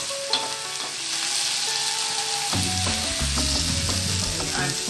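Fish stir-fry pasta simmering in a pan, a steady hissing sizzle with bubbling and light clinks throughout, growing denser and louder halfway through, with no talk.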